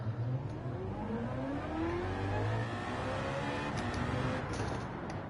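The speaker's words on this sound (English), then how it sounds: "Just want to listen to that noisy V8 so much." V8 GT3 race car engine in Gran Turismo 7 during online lobby sprint racing, loud sustained revving with rising and falling pitch as the car accelerates and shifts, no voices.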